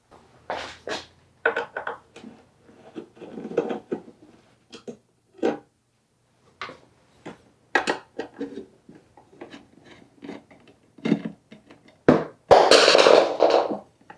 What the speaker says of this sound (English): Let's go ahead and take the back plate off now.